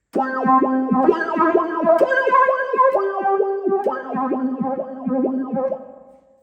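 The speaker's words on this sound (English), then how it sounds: "example 2, using the saw tooth, the saw lead synthesizer sound" Sawtooth lead synthesizer patch on a Casio CTK-691 keyboard, playing a quick melodic line of short bright notes with a slight echo, loud and alone, fading out at the end.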